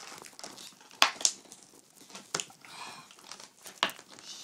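Cardboard and plastic packaging of an airsoft gun being torn apart by hand, with sharp ripping bursts and crinkling at irregular intervals close by, and no talking.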